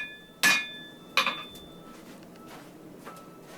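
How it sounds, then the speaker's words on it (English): Hammer blows strike hot wire rope on an anvil while forging a cable Damascus knife, two sharp ringing metallic clanks close together followed by fainter taps in a quiet shop. "I'm just hammering it down,"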